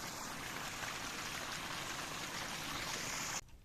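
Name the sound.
water flowing strongly after rain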